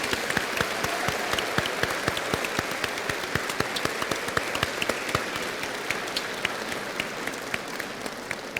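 An audience at the opening of a world congress claps in sustained applause, many hands close and loud, the rhythmic crack of individual claps standing out over the steady wash throughout.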